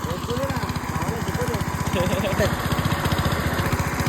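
A farm tractor engine runs with a steady, rapid low chugging pulse close by, while people talk over it throughout.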